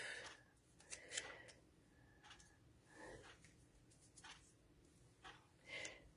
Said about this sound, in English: I'm going to take my ribbon scissors